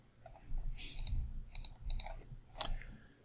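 A handful of quiet, sharp computer mouse clicks in quick irregular bursts while working in Revit 2019, close and dry with no talking.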